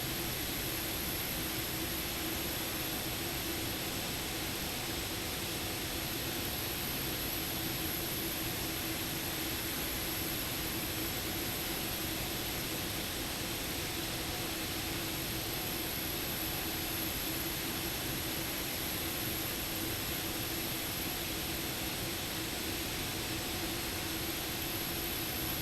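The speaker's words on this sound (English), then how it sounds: "I'm on idle thrust. It's enough to keep the aircraft moving, even in a turn." Steady, even jet engine roar of a Boeing 747-8 Freighter sitting at idle thrust in X-Plane 12, a continuous faint whine and hiss that holds unchanged throughout with no talking.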